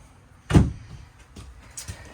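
Glass shower door in a 2024 Palomino SolAire 230FKBS travel trailer slides shut with one sharp thud, followed by a few faint knocks and rattles nearby.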